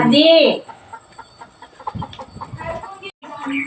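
Chickens cluck and squawk close by in a chicken coop, with a loud squawk at the start and scattered clucks and rustling through the rest.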